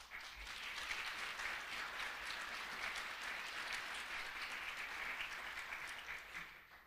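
Sustained audience applause greets Mayor Chuck Grassi at the Greater Rochester Chamber annual breakfast, a dense, even wash of many hands clapping that holds steady for several seconds before easing off slightly at the end.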